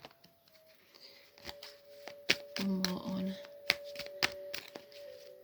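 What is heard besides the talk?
shuffling playing cards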